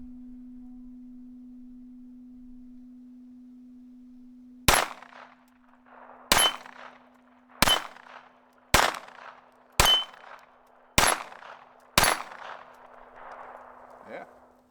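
A Taurus TX22 Compact .22 pistol fires seven sharp, evenly spaced shots at a target outdoors, each crack followed by a short ringing echo over a steady low hum.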